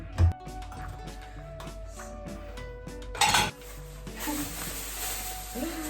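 Dishes are washed by hand in a kitchen sink, with close plates and cutlery clinking and clattering, then a burst of running water spraying steadily, and no talking over it.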